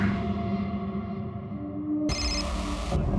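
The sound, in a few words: telephone ringing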